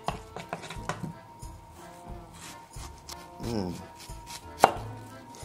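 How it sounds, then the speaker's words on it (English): A knife chops onions on a cutting board in irregular sharp taps, some clustered and some spaced out, close by, with a brief murmured voice and a louder single knock near the end. "my chopping skills aren't the best"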